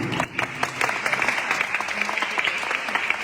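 A church congregation at a charismatic retreat gathering applauding together, a dense, lively burst of clapping sustained throughout with voices mixed in.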